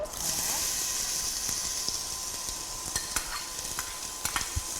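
Onions sizzling in heated oil for a beans curry, a steady bright frying hiss that starts loud and eases slightly, broken by occasional sharp pops and spatters, close by with no talk over it.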